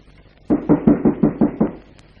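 Six quick, evenly spaced knocks rap on a door, close and loud, followed by quiet.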